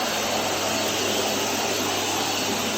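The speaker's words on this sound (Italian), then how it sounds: "Iniziamo dall'aspirapolvere." A household vacuum cleaner runs loud and close, a steady, unbroken whooshing roar of motor and suction with no pauses or voices.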